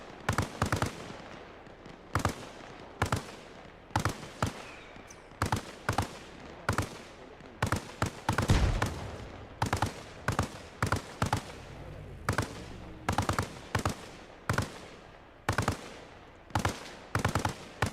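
Rapid bursts of automatic gunfire from ArmA Reforger battle fighting, short volleys repeating at a steady rhythm across the whole stretch, loud and close, with a heavier blast midway and no talking.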